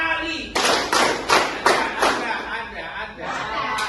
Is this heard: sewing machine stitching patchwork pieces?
no